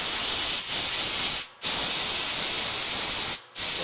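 Solvent sprayed onto rusty parts during a Meyer E-60 snowplow pump rebuild: a close, steady hissing spray in two long bursts, separated by short pauses.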